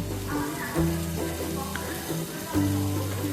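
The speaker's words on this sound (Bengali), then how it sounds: "তেলের মধ্যে এই কাঁচা লঙ্কাটাও একই সাথে রসুনের সাথে ভেজে নিচ্ছি" Green chillies and garlic frying together in hot oil for a Bengali banana stem curry, giving a steady, close sizzle with soft crackles over a low tonal hum.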